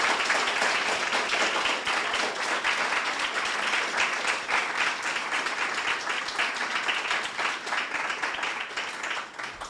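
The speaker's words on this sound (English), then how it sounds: "I'd like to ask you at this time to give all the debaters a big round of applause" A large audience at a secondary-school debating competition gives sustained applause, a continuous dense wash of clapping from many hands that holds steady for about ten seconds before tapering slightly at the end.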